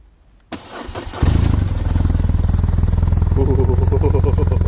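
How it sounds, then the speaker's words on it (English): Exhaust note of a 2007 BMW R1200RT motorcycle fitted with an aftermarket exhaust: a starter whirr catches and the boxer twin fires into a loud, steady, close idle with a pulsing throb. "I'll give it a fire up, and you can hear what she sounds like with this exhaust on it."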